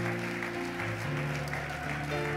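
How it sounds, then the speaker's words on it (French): Church congregation clapping at a morning worship service, a steady dense patter heard close, with sustained organ or keyboard chords ringing underneath throughout. "Est-ce qu'on peut applaudir le Seigneur Jésus ce matin?"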